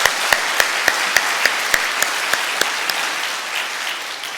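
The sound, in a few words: church congregation applause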